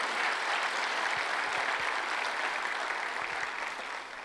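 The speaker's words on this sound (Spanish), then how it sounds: "Give the Lord a hand if He Dele un spoke to you." A church congregation applauding, dense sustained clapping that fills the space loudly and steadily, then fades slightly toward the end.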